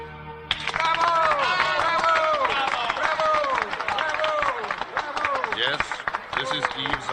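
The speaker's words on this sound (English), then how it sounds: "The hall rings with applause and bravos." Sustained applause with bravos fills a hall at an awards ceremony in a radio drama, a dense continuous crowd roar and clapping from start to finish, loud and steady.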